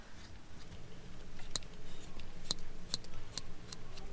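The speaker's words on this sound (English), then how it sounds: "if you're going to cut this with scissors, you are going to need strong, heavy duty scissors" Heavy duty scissors slowly chew through recycled plastic bottle insulation in a camper van, giving a few sharp, spaced snips over a low steady background, close and quiet.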